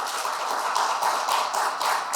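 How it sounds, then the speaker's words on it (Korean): A church congregation applauds at an Easter Sunday service, with dense, steady clapping from many hands throughout, moderately loud and close. "박수로 축하해 주시기 바랍니다"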